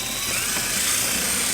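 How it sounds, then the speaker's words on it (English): A drill with a 3/16 bit bores a hole in the bumper of a 2018 Nissan Murano, a short continuous high-pitched whir held at steady loudness, close by and alone. "we're gonna go ahead and drill our first hole using a 3/16 drill bit"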